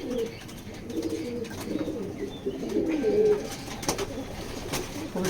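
A male racing maxi pigeon coos softly in low, repeated throaty bursts, close by against faint background hiss.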